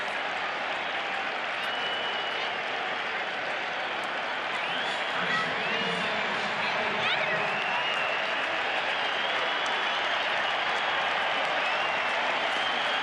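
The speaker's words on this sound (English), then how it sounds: "The crowd rises to his feet, trying to help the Phillies grab an opening day victory." A baseball crowd at the Phillies' opening day game applauds and cheers in a steady, continuous roar that swells slightly midway and holds at a fairly even level throughout.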